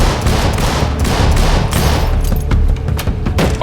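A nine-bang flashbang grenade goes off in Door Kickers 2 amid close-quarters fighting, a rapid dense string of loud bangs and thumps layered over gunfire, harsh and continuous.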